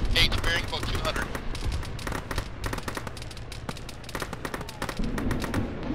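Gunfire and RPG fire in a military video game: rapid, sharp bursts of rifle and machine-gun shots crack in quick clusters throughout, near and loud, while voices talk over the shooting.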